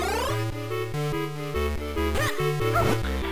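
Chiptune dog barks from the Game Boy Advance game Zelda: Minish Cap, a sequence of short synthesized yips layered over bouncy game music with steady bass notes.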